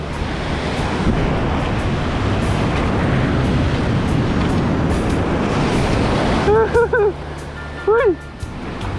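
Loud ocean surf crashes and rolls continuously on the coast of Palawan, mixed with heavy wind buffeting the microphone; a couple of brief voice bursts cut in near the end.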